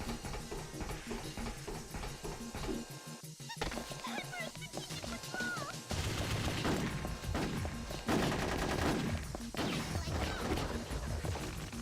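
Gunfire in a Ghost in the Shell video game, dense bursts of rapid shots and impacts layered over game music and effects, continuous and loud, with a voice talking at points.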